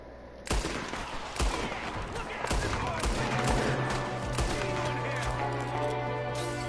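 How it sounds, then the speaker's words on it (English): Gunfire in the video game Red Dead Redemption 2 comes as a rapid volley of loud, sharp shots, some close and some farther off, cracking over a dense background of battle noise. "There's another one shooting from the window."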